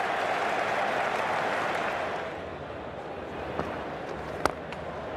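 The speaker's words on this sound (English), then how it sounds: "this massive crowd loving this innings from Matthew Hayden" A massive cricket crowd applauds Matthew Hayden's innings, a broad roar of clapping and cheering that stays loud and then gradually tapers off, with a couple of sharp pops near the end.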